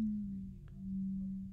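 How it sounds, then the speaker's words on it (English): A steady 220 Hz sine tone with amplitude modulation swells and dips slowly in volume, a pure electronic hum with a faint click near the middle. "This is called amplitude modulation."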